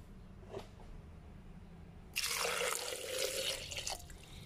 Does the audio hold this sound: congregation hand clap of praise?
no